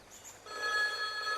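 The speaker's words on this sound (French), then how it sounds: "Ah, téléphone." A telephone rings inside the game Skyrim, a steady electronic trill that starts after a short soft lead-in and holds close and clear with no talk over it.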